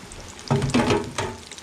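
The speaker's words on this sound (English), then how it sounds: "Just lower it down the oil, don't get burned up, folks." Battered chicken for a po' boy sandwich being lowered into hot oil, giving loud close bursts of bubbling sizzle that swell, ease off and swell again.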